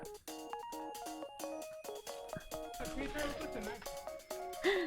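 A mobile phone ringtone plays on a beach on Miyakojima, a melodic electronic tune of repeating stepped notes, fairly clear and continuous with some background noise building in.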